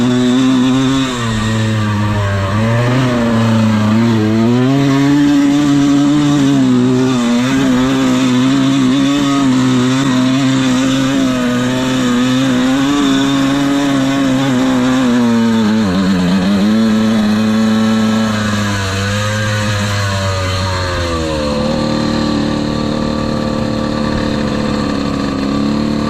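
A vintage Evo motorcycle engine revs hard at full throttle in second gear, a loud, close, continuous roar that holds steady, dips briefly and then falls back near the end.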